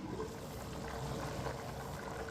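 Water bubbling at a steady boil in a lidded pot on a medium flame while meat and rice cook, a soft continuous simmering hiss with no talk.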